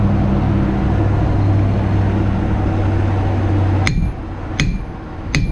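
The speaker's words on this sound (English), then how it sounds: "If you get a nice flat hammer pattern, you know you're hitting it right." A hammer rings sharply three times on a hot knife blade during forging, following a loud, steady roar; the strikes come loud and close, about a second apart.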